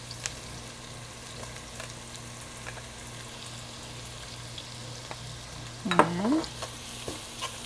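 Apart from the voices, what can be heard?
garlic and onions sautéing in oil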